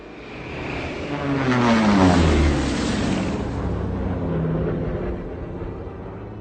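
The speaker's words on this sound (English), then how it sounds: "You hear that? Yeah, I think that's our plane." Fixed-wing airplane engine approaching in a war action film, a rising propeller drone that swells loud in the middle and holds as a steady roar, no talk over it.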